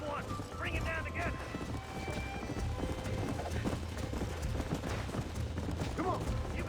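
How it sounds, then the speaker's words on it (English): Horses gallop with rapid clip-clop hoofbeats across a game's Western landscape in Red Dead Redemption, joined by a brief whinny and mechanical rattles while voices talk over the action. "There's the horses!"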